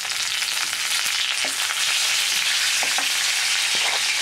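Curry leaves and asafoetida sizzle in hot oil while tempering a mixed dal, giving a loud, steady hiss with scattered sharp crackles and pops throughout, no voices.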